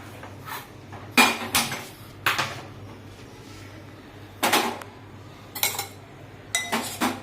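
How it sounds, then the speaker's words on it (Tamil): Metal utensils scrape and clink against a pot of cabbage and buttermilk kootu with ground coconut and green chilli in several short bursts, with quiet pauses between and a low hum underneath. "தேங்காய், பச்சை மிளகாய் இதெல்லாம் அரைச்சு இதுல கலக்கிறேன்"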